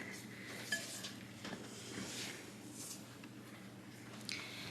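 Milk is stirred into sifted flour in a bowl, with quiet scraping and light clinks of a utensil against the bowl. The sound is faint and close, with no voices.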